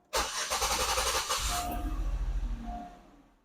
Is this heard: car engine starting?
yes